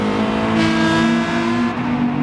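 A race car engine screams at high revs down Bathurst's Conrod Straight in Gran Turismo Sport, a loud, close, sustained whine holding steady for a couple of seconds.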